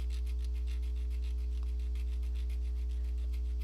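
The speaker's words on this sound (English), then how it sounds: "I'm going to take out my needle file and file this just a little bit" A needle file rasps steadily against metal in short, even back-and-forth strokes, close and moderately quiet over a constant low electrical hum.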